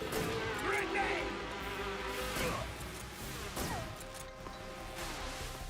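A dense buzzing bee swarm from The Pain boss fight in Metal Gear Solid 3 drones steadily, with game impact and effect sounds cutting through.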